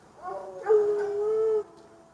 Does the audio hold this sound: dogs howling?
yes